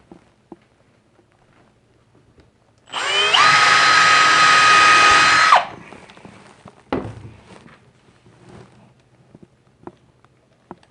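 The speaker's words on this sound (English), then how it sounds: "pre-drilling, of course." A power drill whines steadily for a few seconds at close range, pre-drilling wood for an antique bench repair, then stops, followed by some clunks and handling noises.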